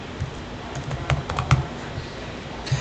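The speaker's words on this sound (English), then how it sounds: "I tried typing in BNB network" Typing on a computer keyboard, a run of light, irregular key clicks at close range, fairly quiet and heard alone with no talking.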